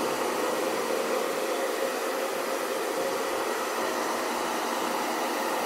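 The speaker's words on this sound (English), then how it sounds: "once the devices started making hairdryer noises." A steady, broadband whirring rush of PS5 game console fan noise, constant and fairly loud throughout, like devices blowing hot air.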